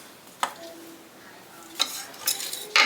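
Cut carrots are stirred with a seasoning mixture in a bowl, giving a few scattered clinks and scraping strokes close by, with quiet gaps between them.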